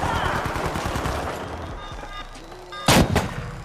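Rapid gunfire in The Finals closed beta, a dense stream of shots and explosive bursts with a loud blast near the end, close and busy with no talk.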